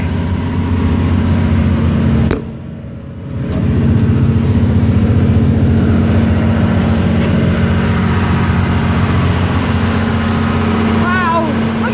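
A boat's engine running in its engine room, a loud, steady low drone filling the space throughout, with a brief dip in level partway through before the heavy rumble returns.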